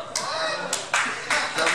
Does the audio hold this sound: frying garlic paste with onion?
no